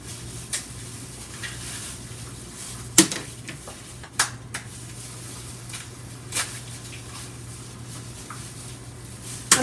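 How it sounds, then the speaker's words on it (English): A whole egg being stirred in a bowl before frying a turkey, soft wet swishing with a few sharp clinks of utensil on the bowl, close and intermittent. "So I stir that egg until the white and the yellow part mixed in nicely"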